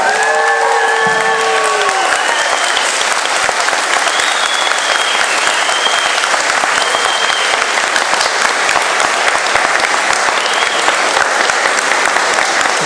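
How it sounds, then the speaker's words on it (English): Convention audience applauding Doctor Who actors Nicola Bryant and Colin Baker: loud, dense clapping from a large crowd sustained throughout, with a few brief whistles and cheers rising over it near the start. "if I give a huge round of applause to Nicola Bryant"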